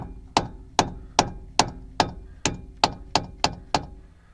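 A dust cap hammered back onto a Ford F150 seven-lug wheel hub, ten sharp metallic strikes at a steady, even pace, close and clear with no talk.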